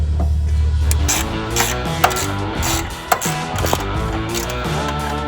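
Ratchet wrench removing nuts and bolts from an airplane, steady close mechanical clicking with a few sharp metallic knocks, continuous throughout with no talking.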